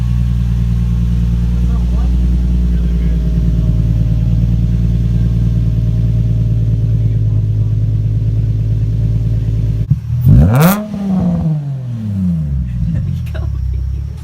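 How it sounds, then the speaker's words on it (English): Nissan 350Z fitted with a Megan Racing drift spec exhaust, a loud steady rumbling idle that cuts off abruptly, then sharp revs rising and falling with a crackling burst, close by. "Like I said, it's a Megan Racing drift spec exhaust."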